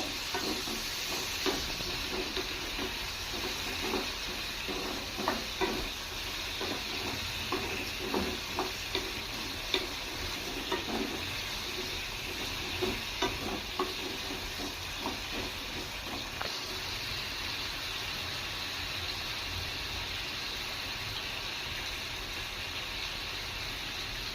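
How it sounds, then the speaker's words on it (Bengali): Potatoes with a little turmeric stir-fry in a pan, giving a continuous sizzling hiss broken by repeated scraping and stirring clicks of a utensil, close and fairly loud throughout with no talking. "আর একটু সামান্য হলদি, সামান্য পরিমাণে, দিয়ে আমি নাড়াচাড়া করে ভালো করে এটা ভেজে নেব।"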